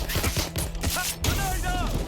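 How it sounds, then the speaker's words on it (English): Gunfire in the video game Watch Dogs Legion, a quick series of sharp shots and a burst of fire in a firefight, heard under excited shouting voices. "Shots fired!"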